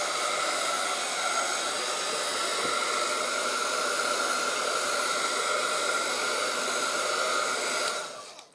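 A heat tool blasts hot air to dry ink on a mixed-media piece, a loud, continuous, even roaring whoosh that holds steady for several seconds and then cuts off abruptly.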